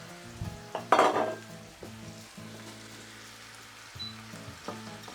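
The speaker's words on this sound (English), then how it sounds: "I'm now adding 350 grams of mince with my vegetables." Lean minced meat frying with vegetables in a pan, giving a steady close sizzle with a burst of louder crackling early on and occasional stirring scrapes.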